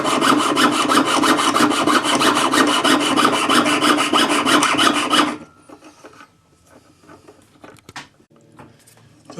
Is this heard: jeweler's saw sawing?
yes